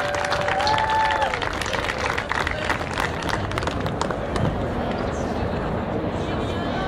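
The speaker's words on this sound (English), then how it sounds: "Let's give them a big round of applause" Audience at a family and friends presentation applauding, a steady wash of clapping from a crowd that fills the room evenly, with voices mixed in underneath.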